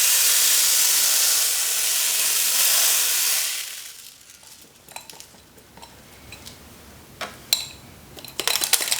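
Small air suspension desiccant beads from an Audi A8 pour out into an aluminum pan, a steady loud rushing hiss for a few seconds, followed by scattered rattles and light clinks as they settle.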